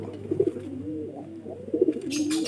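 Pigeons coo in low, throaty rolling phrases, close and steady, with a brief hiss of other noise near the end.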